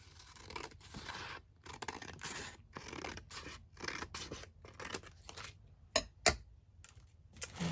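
Scissors snip through fabric in a rhythmic series of close, crisp cuts, each stroke a short rasping slice, with a couple of louder clacks toward the end.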